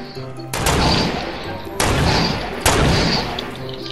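Three heavy, booming gunshots in Fortnite, each a loud close blast with a long decaying tail, spaced about a second apart, with a player talking between them.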